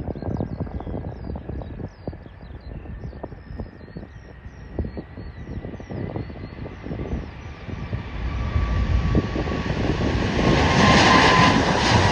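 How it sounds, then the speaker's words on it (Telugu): A Qatar Airways airliner takes off, its jet engines rising from a rumbling roll into a strengthening roar that swells louder toward the end, heard from inside the cabin. "ఖతార్ ఎయిర్లైన్స్ టేక్ ఆఫ్ అవుతుంది."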